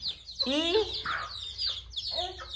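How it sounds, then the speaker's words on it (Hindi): Young chicks feeding and clucking, with bright chirps and short calls repeating close by in a quick irregular pattern over a low background hum; a voice speaks faintly nearby. "तो खा रहे हमारे चूजे"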